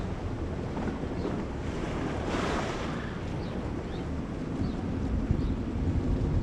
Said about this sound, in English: here's a clip of it going through some deep water